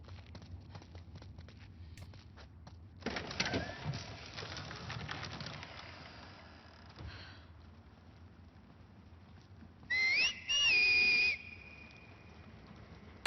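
Whistle signals in The Last of Us Part II: two sharp, loud, bird-like whistled calls near the end, one held with a pitch rise, after softer rustling and footsteps.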